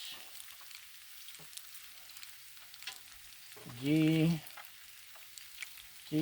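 Bacon crisping on a Blackstone griddle gives off a steady, moderate sizzle throughout, with a short burst of a voice speaking midway and again at the end.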